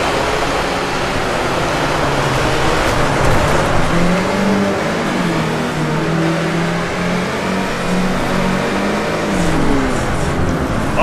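A Volkswagen off-road racer in an unlimited-class league of the Baja: Edge of Control racing game revs hard and continuously, a loud, steady engine drone with shifting pitch that fills the whole stretch, with no voices over it.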